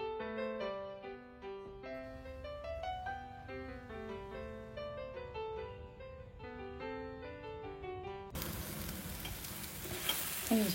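Green pea kachori fry in a wok, a loud, dense sizzle that breaks in near the end after a stretch of melodic music.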